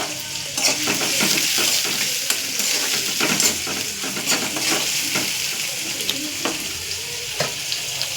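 Cumin and onion frying in a pan for a green cluster bean and potato dish, a loud steady sizzle broken by repeated spatula scrapes and stirs in an uneven rhythm, no talking.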